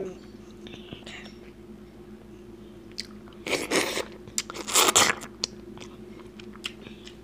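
King crab legs being eaten close to the microphone: two bursts of crunching and cracking bites stand out amid soft mouth sounds and quiet background hum.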